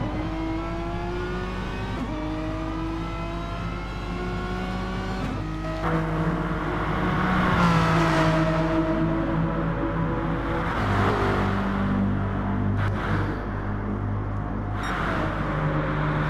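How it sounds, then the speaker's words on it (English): Ford Mustang race cars lap the Fuji circuit in a racing game with a steady, loud engine drone. The engines rise and fall through gear shifts, and a second car's note overlaps in the middle. Nobody speaks. "Two Mustangs are racing together as a team"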